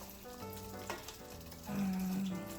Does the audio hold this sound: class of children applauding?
no